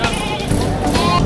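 A short, wavering goat bleat rises up close amid a noisy crowd of animals and murmuring voices at a livestock auction in Padre Garcia, Batangas.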